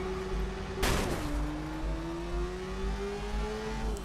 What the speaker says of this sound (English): Motorcycles are good because they're pretty fast and you can just easily go through traffic